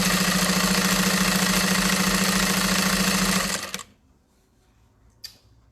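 A sewing machine stitches a fabric tote bag with a loud, steady, fast mechanical whir for about three and a half seconds, then stops abruptly. A faint short click follows in the quiet.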